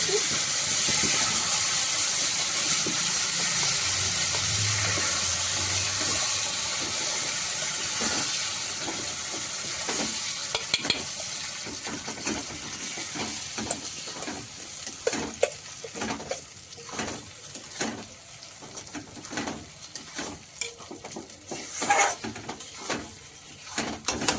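Green pea filling for koraishutir kochuri is stirred and fried in a kadai. A steady hiss and sizzle gives way to repeated scraping strokes of the spatula against the pan.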